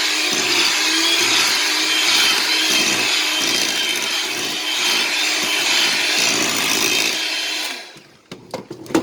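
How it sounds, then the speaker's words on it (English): Handheld electric mixer beating thick cinnamon bread batter in a bowl, a loud, close, steady whirring grind with rhythmic dips as the beaters churn, then stopping with a few clattering taps near the end. "it helps if you turn your mixer up a bit when it gets tough"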